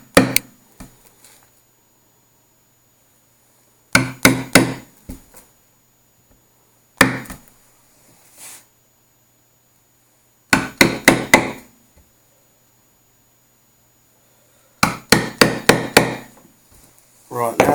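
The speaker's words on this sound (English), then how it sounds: "to do the centre punching, I use an old posi drive screwdriver that's all rounded off." Sharp metal-on-metal strikes of a hammer driving a sharpened, rounded-off old Pozidriv screwdriver as a centre punch into a wooden amp cabinet, heard in five close, loud bursts of three to six rapid blows separated by pauses.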